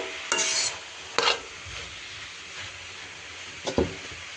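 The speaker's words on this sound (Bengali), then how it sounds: "শুকনো শুকনো করে ভাজি করবো" Mixed leafy greens with potato and dried fish being stir-fried dry in a pan, with a few brief scraping stirs and soft sizzling bursts over a quiet background.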